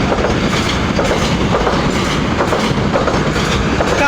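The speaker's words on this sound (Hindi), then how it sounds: "काजीपेट वैग 9 मीट्स वैग 9 एट जू चंद्र LC लेवल क्रॉसिंग।" A WAG9 electric locomotive from Kazipet passes close by at a level crossing, a loud continuous rumble with rhythmic clickety-clack of wheels over rail joints throughout.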